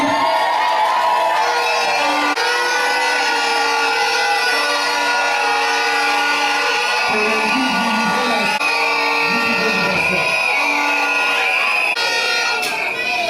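Guests at a civil wedding ceremony cheering loudly, with sustained high-pitched shouts and ululating calls over a dense crowd roar that never lets up.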